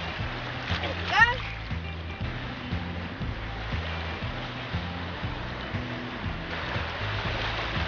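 A small released female fish splashes back into the water during West Coast rock-and-surf fishing, one quick close splash early on, followed by low steady background and someone talking.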